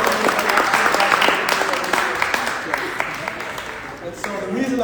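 An audience at a spoken-word poetry event gives a round of applause for the organizers, scattered claps ringing out fairly close and loud, thinning out gradually, with voices mixed in underneath.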